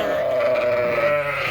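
Sheep ewes and lambs bleat on a farm, one sustained, wavering bleat standing out loud and near over a soft background of other livestock.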